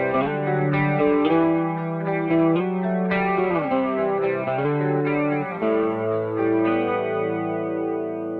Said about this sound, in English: And you have this detuned sound, this chorus sound, but without movements.